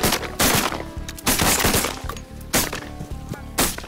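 Shotgun blasts from a duck and goose hunt in Alberta: four loud, sharp broadband bangs spaced about a second apart, each with a brief ringing decay, over a low steady rumble.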